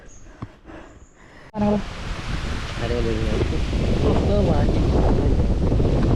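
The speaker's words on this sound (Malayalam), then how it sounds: "വാട്ടെ കാറ്റ്" Strong wind in an Idukki forest buffets the microphone with a loud, continuous rumbling roar after a few quiet seconds with faint clicks.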